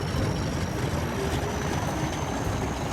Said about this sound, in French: L'hélice se mit à tourner